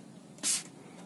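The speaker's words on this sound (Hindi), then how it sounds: "जैसे हमने स्प्रे करा" A single short hissing burst of disinfectant spray inside a car, close and crisp, lasting about a quarter second against a quiet background.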